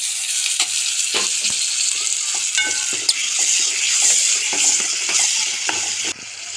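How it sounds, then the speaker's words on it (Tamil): Steady sizzling and crackling of chopped capsicum and onion frying in a hot pan, with occasional stirring scrapes and clinks throughout. "கட் பண்ணி வச்சுருந்த கேப்சிகமும் வெங்காயத்தையும் போட்டு நல்லா வதக்குறோம்."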